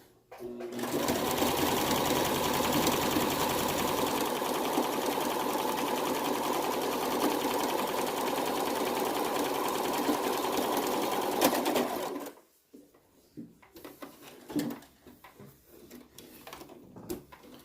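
A sewing machine stitches fabric mask panels in a long, steady, close whirring run of about eleven seconds, then stops abruptly, leaving a few faint handling clicks and rustles.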